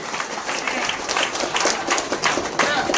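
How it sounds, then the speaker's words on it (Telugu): Audience at a student awards ceremony for a Yadav educational trust clapping together, a dense, steady burst of applause lasting a few seconds. "బిగ్ క్లాప్స్ కొట్టండి, చప్పట్లు"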